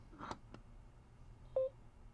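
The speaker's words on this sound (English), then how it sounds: "It beeped." A VGC N7600 mobile radio gives one short, clean electronic beep while pairing over Bluetooth, set against quiet room tone after a couple of faint handling taps.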